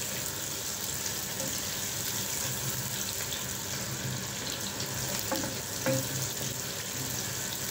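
Red onion sizzling and frying in a pan, a steady broadband hiss throughout with a few faint stirring clinks near the end, no voices.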